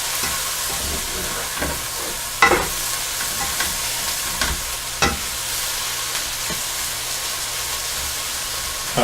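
Mushrooms fry in a non-stick pan for gravy, giving a steady loud sizzle and hiss with occasional scrapes and knocks as they are stirred, and no talk.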